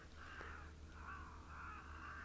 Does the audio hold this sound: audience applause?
no